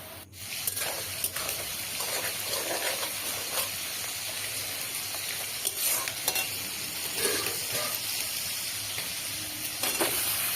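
Onions sizzle in hot oil in a pan as they turn golden, stirred constantly with a spatula, so steady close frying is broken by regular scraping strokes.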